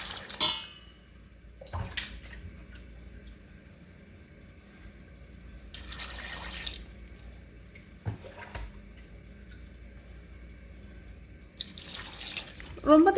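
Water poured from a tap or jug into a pot of green mango and radish sambar, a steady splashing run in bursts near the kitchen counter, with brief clinks and faint background noise between pours.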